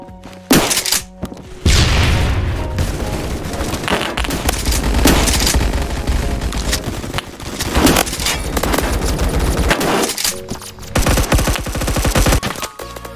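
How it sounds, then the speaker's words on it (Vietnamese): Sustained automatic gunfire from the Roblox shooter Phantom Forces plays loud and continuous for over ten seconds, with dense rapid shot bursts and heavy low thumps and almost no pauses. "nó spam cái súng nó giữ chuột trái chứ"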